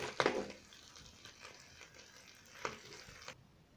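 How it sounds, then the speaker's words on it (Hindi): Barari fish frying in a pan, a quiet close sizzle with brief stirring scrapes and clatters, the loudest burst at the start, then the sizzle fades out abruptly. "बाकी मछलियों को भी फ्राई करेंगे।"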